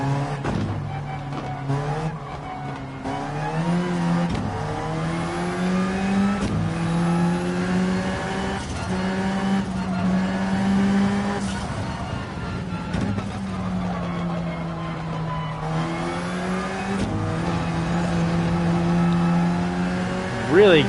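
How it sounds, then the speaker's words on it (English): An Alfa Romeo 4C's four-cylinder engine races in Gran Turismo 7, revving hard through repeated upshifts and rising pitches, with brief tyre squeals, loud and continuous throughout. "the 4C is fantastic. A little noisy. That 4-cylinder is making quite a bit of noise."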